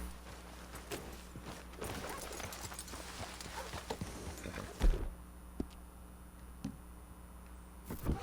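Horse hooves clip-clop steadily while riding in Red Dead Redemption 2, a rhythmic moderate-volume gait over a low ambient hum, with a few louder thuds near the end and faint talk in the background.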